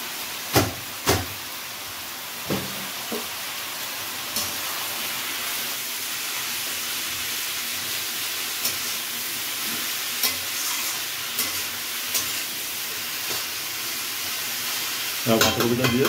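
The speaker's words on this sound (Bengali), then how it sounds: "বাঁধাকপিটা দিয়ে ভালো করে একটু কষে নিতে হচ্ছে।" Drained cabbage being fried and stirred in a pan for a Bengali dish with rohu fish head, giving a steady close sizzle broken by occasional sharp spatula knocks and scrapes.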